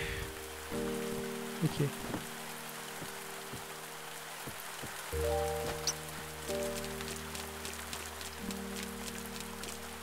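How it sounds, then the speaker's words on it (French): Rain falls steadily in the video game The Spirit & the Mouse, an even hiss running under sustained musical tones and a few soft effect sounds, with a short spoken word. "il pleut encore."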